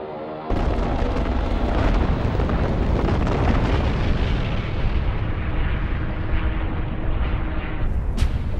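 Heavy, continuous explosions from German Stuka dive bomber attacks on Stalingrad roar loud and dense, a sustained wall of blasts and rumbling that begins abruptly and holds without pause.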